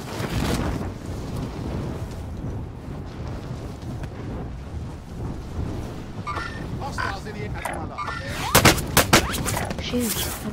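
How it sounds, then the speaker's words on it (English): Dense, sustained gunfire from a shooter video game, including shots coming from the air, rattling continuously with a cluster of sharper bursts near the end. "Shoot, I'm being shot at from the air."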